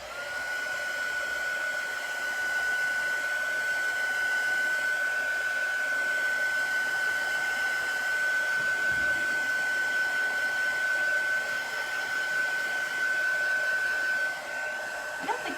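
A hair dryer blows steadily on chalk paste on a patriotic gnome craft, with a constant close whirring roar and a thin high whine running unbroken for the whole stretch.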